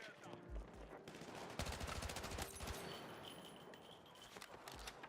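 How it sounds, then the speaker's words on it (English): Rapid bursts of submachine gun fire from a video game, clustered in quick rattling volleys across the middle of the stretch, with a few isolated heavier thumps at the start and end. "Okay, I'm liking this SMG."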